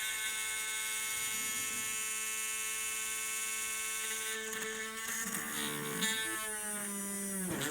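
Small drill boring a hole in a plastic 1988 Cobra Hydro Viper toy spear gun, a steady, fairly quiet buzzing whine that wavers in pitch midway as the bit bites, close with no voices.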